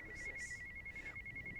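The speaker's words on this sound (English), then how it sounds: "We're having a ringing situation going on here." A telephone rings during a high school sports showcase broadcast, a steady electronic tone repeating in short pulses through the whole moment under a low background hum.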